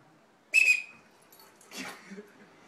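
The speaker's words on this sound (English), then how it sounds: "Let's do the whistle trick." A sharp, short whistle blast calling a dog rings out, followed by fainter rustling and a soft yelp-like sound afterward.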